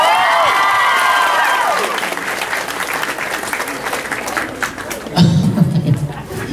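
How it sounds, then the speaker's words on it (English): A convention audience at a Q&A panel breaks into loud, dense applause with cheering whistles at first, then the clapping thins and fades as scattered voices and laughter rise from the crowd. "Give them a round of applause."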